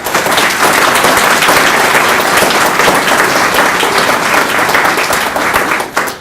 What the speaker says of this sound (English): I would ask for a round of applause for all involved in these areas